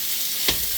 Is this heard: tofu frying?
yes